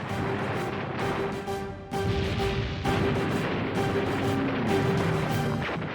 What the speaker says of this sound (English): Anti-aircraft fire sends planes crashing into the Coral Sea.